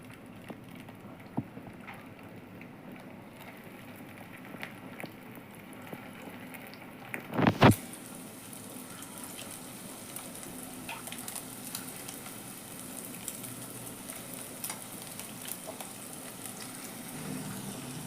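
Egg fritters fry in hot oil for a Bengali egg and pointed gourd curry, with a steady close sizzle throughout and a sharp louder hiss burst midway as more batter hits the oil.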